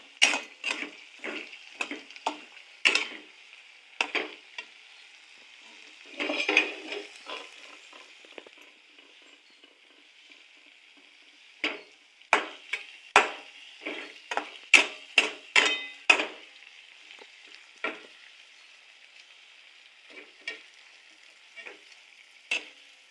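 Green chilies sautéing in a pan while being stirred, bursts of crackling sizzle and scattered scraping clinks in an irregular rhythm, close and fairly clear, with no talking over it.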